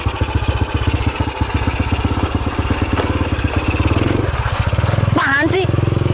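A small motorcycle engine idles and putters in a fast, even pulse close by, then revs briefly as a higher whine cuts in near the end.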